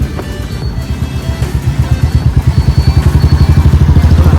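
Bullet motorcycle ridden at night, its single-cylinder engine thumping in a loud, close, pulsing beat that grows steadier and stronger as it pulls along.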